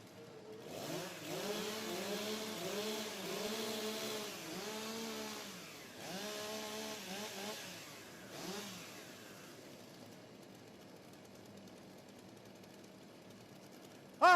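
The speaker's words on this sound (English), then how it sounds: "warm up your saws" Several STIHL chainsaws rev and idle together as competitors warm up before a timbersports rookie championship, a loud continuous roar with repeated rising and falling throttle bursts that fades to a lower drone near the end.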